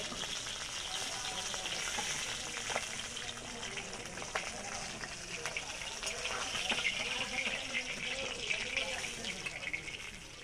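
Pieces of tilapia fish sizzle and crackle in hot oil as they fry until reddish, a steady, fairly close hiss that holds evenly from start to finish.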